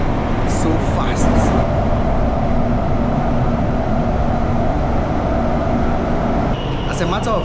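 A fast subway train in China runs at up to 160 kilometers per hour, a loud, continuous rumbling roar of wheels and air from inside the car, with a few brief high squeals near the start and end.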